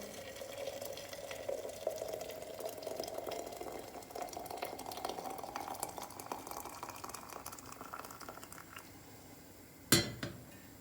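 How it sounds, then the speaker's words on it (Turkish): Water pours out of a teapot before tea is brewed, a continuous trickling stream with a slowly rising pitch and a sharp metallic clank near the end. No one speaks. "Önce suyu boşaltacağız."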